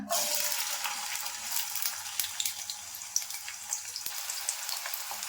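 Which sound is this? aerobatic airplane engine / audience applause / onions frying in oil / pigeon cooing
onions frying in oil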